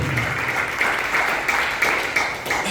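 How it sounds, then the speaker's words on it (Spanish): A church congregation claps together in praise, a dense, fairly loud burst of many hands applauding steadily without voices over it. "denle un fuerte aplauso al Señor"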